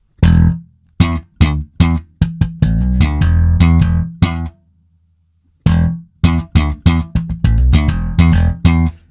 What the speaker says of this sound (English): add in a couple of ghosted thumps and maybe some extra plucks using octaves